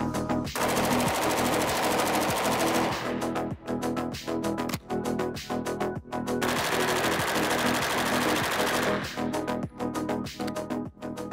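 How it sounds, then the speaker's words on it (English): An H&K MP5 and an H&K MP7 fire full auto side by side on a range, giving loud, sustained automatic bursts that break off into short, rapid volleys. "We're going to shoot side by side, full auto"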